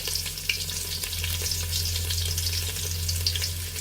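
Spice pastes fry in the oil left over from frying onions for a chicken biryani, a steady, dense sizzle with faint crackles, close and even throughout, with no talking.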